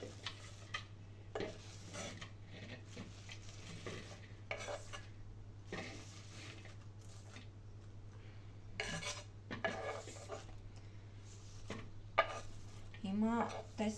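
Chopped Peking (Chinese) cabbage for a Caesar salad is scooped and moved into a bowl, with soft rustling, scraping and occasional clinks of utensil against dish under a steady low hum and intermittent talking.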